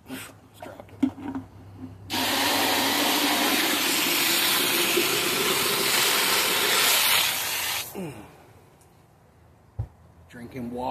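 Water rushing from a garden hose, a loud steady hiss lasting about six seconds before cutting off, with quieter handling sounds and a voice before and after.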